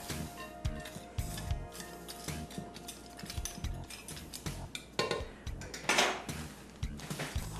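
Salad ingredients are tossed in a bowl, with irregular soft clinks and clatters of utensils scraping and knocking against the dish, quiet and close, in uneven bursts that grow busier toward the end.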